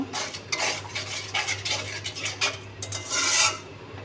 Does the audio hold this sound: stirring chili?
yes